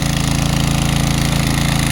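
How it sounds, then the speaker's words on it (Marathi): An engine-driven pump blasts pressure water over a muddy tractor, producing a loud, close, unbroken throbbing engine drone with a rapid pulsing rhythm that never lets up. "आता बघा ट्रॅक्टर धुतो इंजनच्या पाण्यानं म्हणजे कसा प्रेशरने चिखल सगळं जातं बघा"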